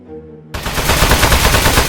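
Rapid automatic gunfire in the video game Aperture Desk Job, aimed at a metal target, bursts in loud and dense after a brief quiet start and keeps hammering steadily to the end.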